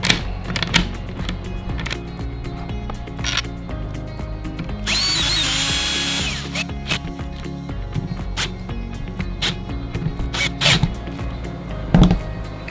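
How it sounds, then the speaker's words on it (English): A power drill drives screws into a lever mortise lockset, with a sustained whirring burst in the middle surrounded by many sharp clicks and taps of handling parts, close and fairly loud. "Tighten up all the screws."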